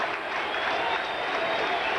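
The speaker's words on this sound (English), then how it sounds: "a big crowd here whooping and hollering in Shea Stadium" A large baseball crowd at Shea Stadium during a 1986 Cubs–Mets game roars in a steady, dense wash of cheering and applause, loud and continuous throughout without a break.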